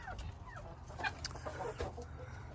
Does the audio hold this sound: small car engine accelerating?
no